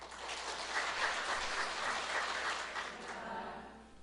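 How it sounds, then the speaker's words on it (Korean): Large audience applause at an opening ceremony of an anniversary academic conference, a sustained, even roar of many hands clapping that swells slightly and then fades toward the end. "큰 박수 부탁드립니다"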